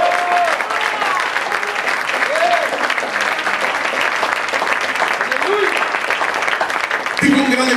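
Loud, dense congregation applause at a lively Spanish-language church service, a steady roar of clapping with a few cheers and voices rising through it and a brief shout near the end.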